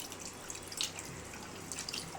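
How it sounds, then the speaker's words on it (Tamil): Water poured into a bowl of salted ragi koozh, a fermented finger-millet drink, gives a faint trickling splash with small bright drips, continuous and quiet, without talk. "இப்போ நம்ம தண்ணி ஊற்றிக்கலாம்."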